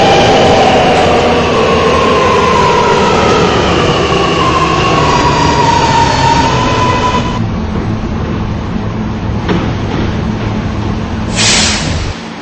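R211 subway train running on the R local line, loud rolling rumble with a falling whine as it slows, then a quieter hum with a brief hiss near the end.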